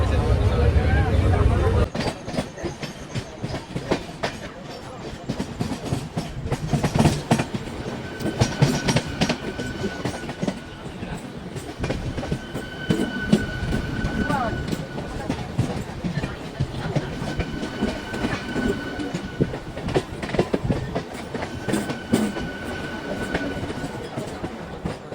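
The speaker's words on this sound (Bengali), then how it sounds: "মেছেদার মধ্যে আমাদের ট্রেন ননস্টপ চলবে তোমার 46 কিলোমিটার।" Inside an LHB coach of the Sri Jagannath Express heading from Shalimar to Puri, the running train gives a loud, continuous rumble with rhythmic wheel clatter, steady throughout, as passengers talk faintly in the background.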